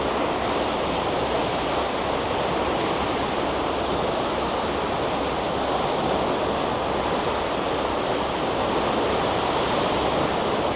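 Water rushing out of a lock on the Wesel–Datteln canal, a constant broad roaring wash like a waterfall, loud and unbroken with no voices.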